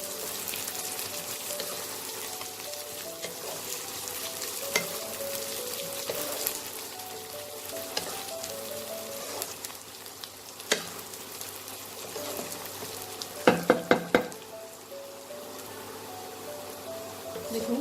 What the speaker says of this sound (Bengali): দিয়ে আবার এটাকে আমি একটু ভাজা ভাজা করবো।